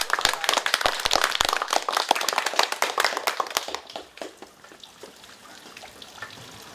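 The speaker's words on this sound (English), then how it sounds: "Big round of applause." A small audience claps for a speaker at a San Marino, California gathering: loud, crisp individual claps at first, then thinning and fading into scattered, quieter claps toward the end, no talking.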